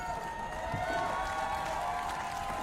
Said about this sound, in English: Lots of flags in the crowd there, Rob. Yeah, it's great, and they're making a lot of noise